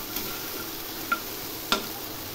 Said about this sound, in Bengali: জল আমার শুকিয়ে এসছে, আমি বারবার করে নেড়ে দিলাম